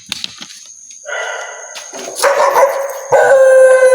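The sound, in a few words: dog barking and howling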